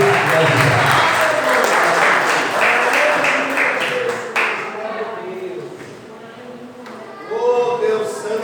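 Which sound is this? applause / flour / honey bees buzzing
applause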